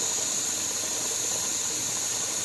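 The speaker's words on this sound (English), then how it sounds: "It is a steady stream of steam coming out." Steam jets from the vent of a pressure canner processing pork, a loud, steady, unbroken hiss that fills the whole span without variation.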